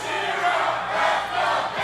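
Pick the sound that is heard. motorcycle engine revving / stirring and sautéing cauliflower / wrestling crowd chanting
wrestling crowd chanting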